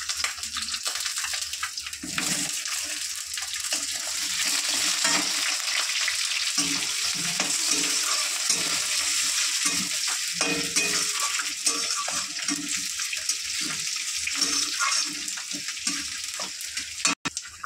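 Cut potatoes frying in a pan for a live fish curry, a loud continuous hiss and crackle with occasional stirring knocks, steady from start to finish.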